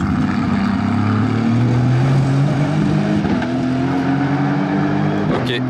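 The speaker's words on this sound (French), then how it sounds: "c'est la Vantage version course DTM" Engine of an Aston Martin Vantage DTM race car on a circuit, a loud, steady roaring drone whose pitch climbs gradually as it accelerates, ending with a short sharp burst.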